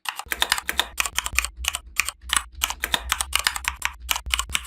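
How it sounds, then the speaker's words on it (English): Keys are typed at a steady pace to produce a mechanical-keyboard clatter. The sharp, crisp clicks are close and loud, with brief pauses between bursts, over a faint low hum. "you are getting a mechanical keyboard sound while typing with any keyboard"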